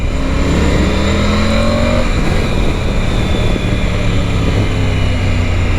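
A Triumph Tiger 900 motorcycle being ridden, its 900 cc engine droning loud and close in a continuous tone that shifts pitch slightly as it pulls, with rushing wind noise and no speech.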